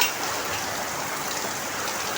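Morning rain pours steadily outside a house gate, a dense even hiss close by with no pauses or voices.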